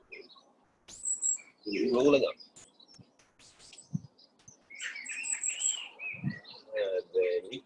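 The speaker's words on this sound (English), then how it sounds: "A lot of bird action up here." Birds chirp outdoors in bursts of varied tweets and calls, with a pigeon's low coo among them, moderately close, while a calm voice speaks intermittently over the birdsong.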